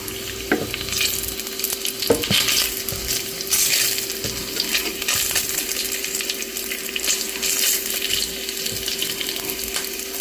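Bacon frying in a pan on low heat gives a steady, close sizzle throughout, with occasional soft clicks and scrapes and no talking.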